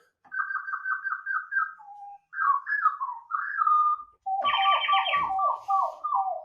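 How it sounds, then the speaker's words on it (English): A robin sings clear, rapid whistled phrases, with trilling runs and short descending notes in several bursts separated by brief pauses, close and alone. "I've got a robin."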